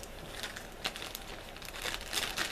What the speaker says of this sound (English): I'll put it back in my plastic bag.